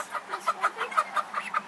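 Orpington and Cochin hens give short, evenly spaced clucks, a close run of about ten in under two seconds, with no talk over them.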